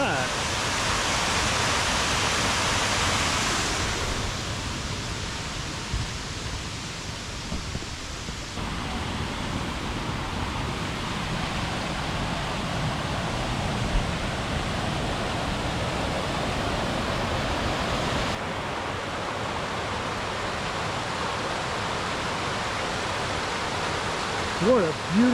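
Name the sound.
Ausable Falls waterfall in Michigan forest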